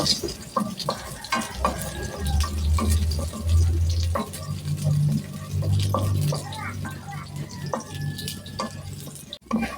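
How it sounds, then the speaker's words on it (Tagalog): Garlic sautés in a hot pan for a Filipino pork and broccoli dish, with steady sizzling and intermittent scraping and stirring strokes. Brief quiet talk sits underneath. "Gisa natin ang ating bawang."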